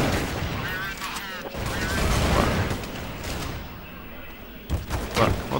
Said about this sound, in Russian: Кстати, Тарас, вот смотрим, отлично стреляет.